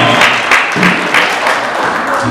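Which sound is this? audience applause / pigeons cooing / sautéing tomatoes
audience applause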